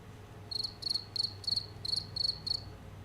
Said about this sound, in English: All I hear is crickets.